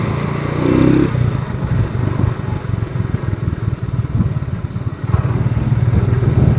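A motorcycle with underinflated tyres labours up a rough mountain road between Tacadang and Alilem in Ilocos Sur, its mid-pitched engine drone steady and close with rattling and clatter mixed in throughout.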